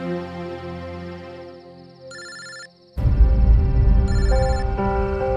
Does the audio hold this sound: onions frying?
no